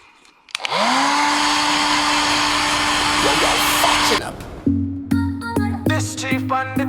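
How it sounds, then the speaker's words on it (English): A small pet dryer blows a loud, steady whoosh for several seconds, then cuts off into a series of short mechanical clicks and tones. "So I have some smaller dryer there."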